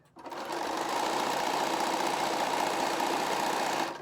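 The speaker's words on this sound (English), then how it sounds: "we're going to sew again right on the diagonal. We're going to chain piece these" A sewing machine stitches fabric pieces one after another along the diagonal, running as a loud, steady, close mechanical whir that starts abruptly and holds for several seconds.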